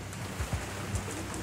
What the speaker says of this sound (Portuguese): agora eu tô ouvindo barulho de chuva